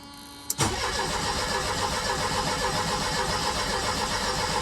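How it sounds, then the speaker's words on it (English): A Mercedes 190E engine is cranked and catches almost at once, then runs loudly and steadily at a rough idle close by, with no talking. "I just wanted to crank it"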